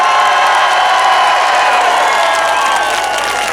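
A large crowd at an outdoor political rally in George Square, Glasgow, cheers loudly and steadily, a dense roar of voices and whoops with scattered clapping, sustained at full volume throughout.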